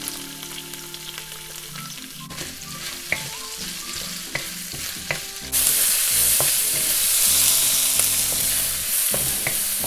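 Onion and carrots with ginger stir-fried in a wok for pork chow mein, scraping and clattering with a steady sizzle that grows louder midway, no talking.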